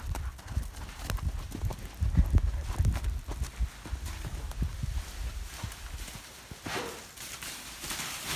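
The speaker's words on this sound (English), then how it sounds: "these cattle do jump around still when they're this big inside that shed to move" Cattle shuffle and move on bedding inside a shed, giving irregular thuds and hoof clops at close to middle distance against low background rumble.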